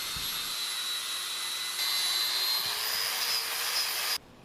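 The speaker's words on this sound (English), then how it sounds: "so out came the wire wheel." A wire wheel grinds rust off the axle from a 2002 Ford F250, a steady loud high-pitched whir with a sustained tonal whine that holds for about four seconds and then cuts off abruptly.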